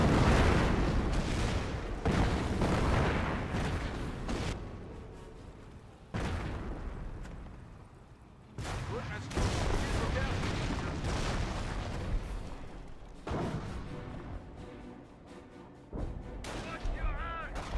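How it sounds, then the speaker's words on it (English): Artillery shells pound a battlefield in Company of Heroes, with Raiders artillery and a Calliope rocket launcher firing on Panzer Grenadiers; repeated heavy booms and blasts come in irregular bursts while a commentator talks over them. "Another Raiders artillery being brought in somewhere."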